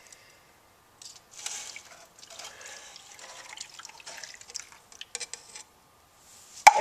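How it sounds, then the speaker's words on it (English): Liquid poured onto an exposed speaker circuit board, giving faint intermittent splashing and dripping with soft wet crackles, then a sharp louder click at the very end. "So, we're just gonna pour it onto that circuit."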